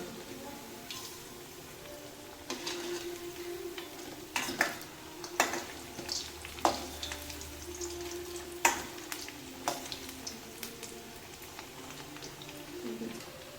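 Seven masala vadas fry in oil in a pan for a buttermilk curry, a steady close sizzle with scattered sharp crackles and pops, and a few utensil clinks as they are turned.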